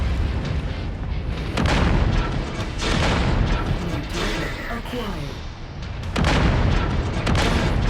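Mech weapons fire in MechWarrior 5 battle: heavy booms and explosive bursts land in uneven clusters, loud and dense, with a player talking over the noise.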